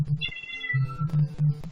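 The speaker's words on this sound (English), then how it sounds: "if you hear a cat in the background" A cat meows a few times in the background, medium-distant and moderately loud, over a low steady hum.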